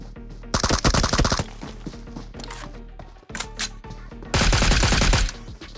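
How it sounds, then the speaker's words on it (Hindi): Enemy gunfire in PUBG Mobile (BGMI) gameplay: two loud bursts of rapid automatic shots, close and dense, separated by quieter scattered single shots and game ambience. "वो भी गोली चलाता है।"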